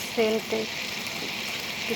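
Dry red chilies sizzle in hot oil in a pan with pointed gourd and poppy seed paste, a steady close hiss throughout, with a brief voice near the start.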